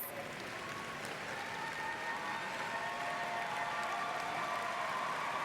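Steady applause from a graduation ceremony audience, sustained and even throughout without voices standing out.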